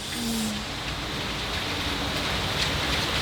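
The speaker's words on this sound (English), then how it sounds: "when it rains, especially in the summer" Summer rain falls steadily outdoors, a dense, continuous hiss of drops hitting surfaces close by, with no voices over it.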